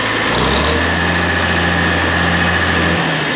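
A Farmall 706 Hi-Clear tractor engine runs steadily at idle, a loud continuous low-pitched drone with a constant hum throughout, heard up close with no talking.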